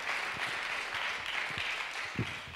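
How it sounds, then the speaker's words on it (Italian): Applause from the audience at an arts award winners' concert, steady and moderately distant, with a few louder individual claps standing out. "Veramente ancora un applauso"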